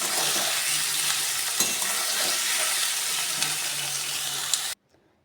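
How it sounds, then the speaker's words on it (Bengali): Onions fry with salt in hot oil for a home-style Bengali country chicken dish, giving a loud, steady broadband sizzle with stirring scrapes before it cuts off abruptly near the end. "একটু ভেজে নেব আর দিয়ে দেবো এই এই পেঁয়াজের মধ্যে একটু লবণ দিয়ে দেবো"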